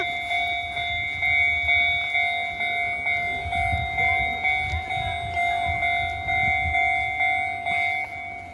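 A train rumbles steadily nearby with rhythmic clacking, while a sustained high whistle-like tone hangs over the passing cars.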